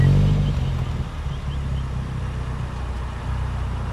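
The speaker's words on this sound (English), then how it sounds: "start up the engine, and we'll see what the engine sounds like when you start it up" A BMW Z4 sports car engine starts and rumbles with a deep, steady exhaust note, louder at first and then settling into an even idle.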